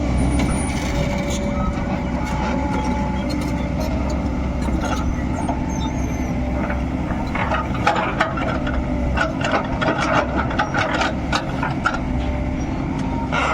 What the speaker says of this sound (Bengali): এদিকে দেখতে পাচ্ছেন এক্সকাভেটার মেশিন কাজ করছে